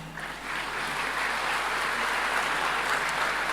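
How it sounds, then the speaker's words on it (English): A crowd claps steadily and continuously at a school annual day, a dense wash of applause that holds its level throughout with no voices over it. "Let's give a very big round of applause to all our students,"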